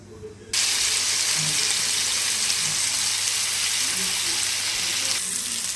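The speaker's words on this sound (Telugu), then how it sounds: "ఇప్పుడు ఆయిల్ వేడెక్కాక పనస తొక్కలను ఇందులో యాడ్ చేసుకోవాలి" Jackfruit peels dropped into a bowl of hot oil for curry burst into a loud, dense, steady sizzle that starts abruptly and holds close up, with faint talk underneath.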